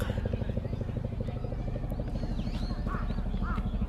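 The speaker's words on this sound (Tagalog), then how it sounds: "parang lamok lang yung helicopter" Helicopter rotor chops in a fast, steady pulse overhead, with crow calls and faint voices scattered on top.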